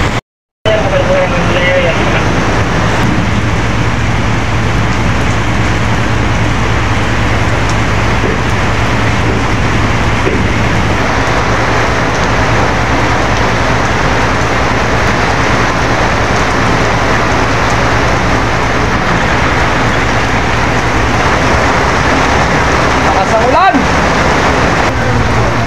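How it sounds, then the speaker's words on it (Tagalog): Steady rain pours down without pause, a dense, loud hiss filling the whole stretch, with voices faintly mixed in beneath it. "Ulan na."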